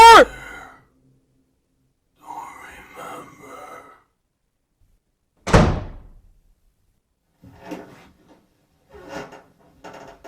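A door slams shut with a loud, sharp bang in the middle of a quiet horror video game, surrounded by scattered softer thuds and faint rustles before and after.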